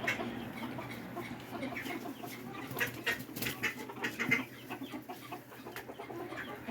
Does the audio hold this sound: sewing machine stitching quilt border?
no